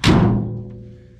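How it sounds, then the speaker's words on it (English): A single heavy metallic slam of a 1979 Dodge D50 pickup tailgate closing, with a broad thud at onset, ringing and rattling as it slowly decays over about a second. "Tailgate closes good."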